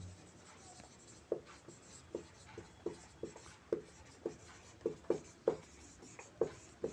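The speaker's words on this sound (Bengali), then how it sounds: "দাঁড়াও আগে লিখি" Pen strokes tapping and scratching on paper in a steady, irregular rhythm of short distinct strikes, close and fairly quiet, with no talking.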